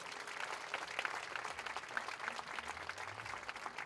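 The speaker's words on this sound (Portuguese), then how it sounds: "Vamos aplaudir o Senhor bem forte" A church congregation at a March for Jesus event in Lajedo applauding together, a dense, even patter of many hands clapping at a fairly distant, soft level.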